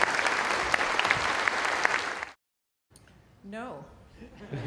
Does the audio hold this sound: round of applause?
yes